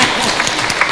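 Audience applause at an anniversary lecture in Dominica, a brief burst of loud, dense clapping from a crowd, close and continuous.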